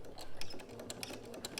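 A sewing machine back stitching along a robe seam, with a quick run of close mechanical needle clicks and brief stops at even spacing, moderately quiet and heard without any voices.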